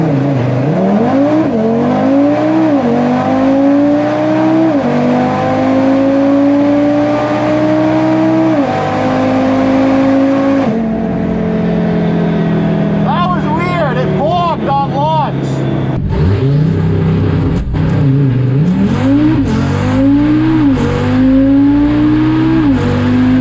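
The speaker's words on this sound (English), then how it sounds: "The car actually bogged on launch." A tuned Audi RS3 with a Unitronic setup launches hard at a drag strip, its five-cylinder engine revving and climbing through several gear changes, loud and close, with a second car's engine also audible and people talking over it.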